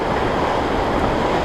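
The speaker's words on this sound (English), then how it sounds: "You can hear the current river raging there." Broad, steady rushing of a river current swollen after heavy rain, a continuous roar close by with no breaks.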